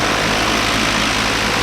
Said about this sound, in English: Turn the bloody engine off and deal with it.